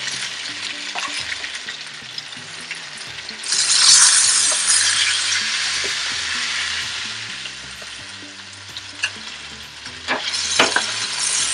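Fish frying in hot oil gives a steady sizzle throughout, swelling louder for a few seconds near the start and again briefly toward the end, with faint clicks of a utensil.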